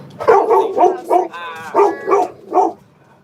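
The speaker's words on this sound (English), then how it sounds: "There's a dog barking outside." A dog barks outside in a series of about seven sharp, close barks with a short whine in the middle, then falls quiet.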